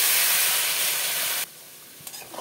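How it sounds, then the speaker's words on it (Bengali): A loud burst of hissing steam as water is poured onto sautéed cauliflower and potatoes in a hot pan, cutting off abruptly after about a second and a half to a quieter background. "আমার ফুলকপি আলু কষানো হয়ে গেছে, দিয়ে দেবো জল"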